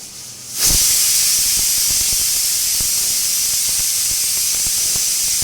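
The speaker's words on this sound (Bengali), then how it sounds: "এখন কিভাবে ছিটি পড়ে প্রেসার কুকারে।" A pressure cooker cooking chana dal with vegetables releases its whistle as a sudden, loud, sustained hiss of steam that bursts in after half a second and keeps rushing close up to the end.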